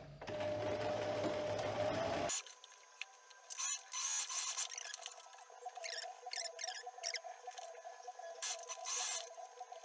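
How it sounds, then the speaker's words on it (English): A sewing machine back stitches fabric when sewing a pocket onto clothing, a loud continuous mechanical whirr for about two seconds, then it stops and quieter intermittent clicks and handling noises follow. "So you sew from the right side of the fabric. You back stitch."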